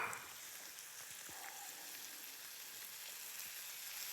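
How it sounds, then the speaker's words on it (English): Mushrooms and diced garlic sizzling in bubbling butter in a pan, a soft, steady crackle and hiss that runs evenly throughout with no talking. "To that bubbling butter, I'm adding 1 clove of diced garlic."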